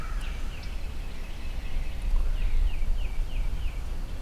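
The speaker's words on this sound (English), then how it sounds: "heard one gobble right there." A wild turkey tom gobbles outdoors, several short rolling calls spaced across a few seconds, fairly distant and moderately faint over steady wind or background noise.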